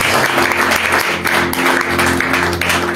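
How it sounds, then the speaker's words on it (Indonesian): A church congregation applauds during a worship service, a steady, dense wash of clapping filling the hall for about three seconds, with sustained musical tones running underneath. "Mau kasih tepuk tangan."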